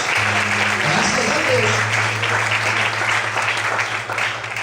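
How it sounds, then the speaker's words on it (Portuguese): A church congregation applauds the Lord, broad steady clapping filling the room throughout, with a sustained organ-like tone underneath. "Vamos aplaudir o Senhor."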